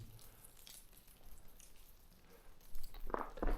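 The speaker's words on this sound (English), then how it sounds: "There's a lot of water coming down that one." Water seeps, drips and trickles down inside an ice cave in one of Utah's largest cave systems, a soft wet patter at a constant low level, with a few sharper close drips near the end.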